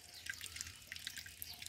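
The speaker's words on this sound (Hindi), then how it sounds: "देखें ये कतरा कतरा करके यहाँ पानी भरते हैं" Water dripping drop by drop from a mountain spring into a collection tank, faint scattered plinks and trickles spaced irregularly over a quiet background.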